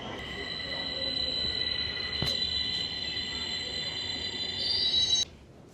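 A Beijing metro train pulls into a station, its wheels squealing with high sustained metallic tones over a low rolling rumble that builds slightly before cutting off near the end.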